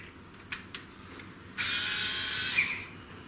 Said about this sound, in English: motorized screwdriver.